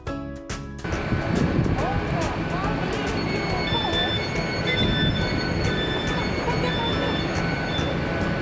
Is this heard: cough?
no